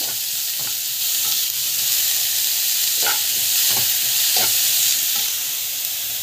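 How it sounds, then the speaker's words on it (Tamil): Close, continuous sizzle of grated carrot and chana dal sautéing in a pan with asafoetida and rock salt, with a few soft stirring scrapes spaced through the sizzle. "பெருங்காயம், கல்லுப்பு நல்லா வதக்கிக்கோங்க."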